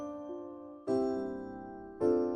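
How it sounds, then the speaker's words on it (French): Bells in the Christmas video game Milo and the Christmas Gift ring out in two distinct struck chimes, each a bright bell strike with a long ringing decay, spaced about a second apart. "Et ça, c'est des cloches."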